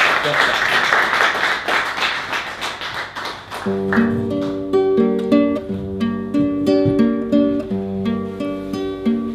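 An audience applauds a singer on an Italian television programme marking Pasolini's centenary, a few seconds of dense clapping that then gives way to music.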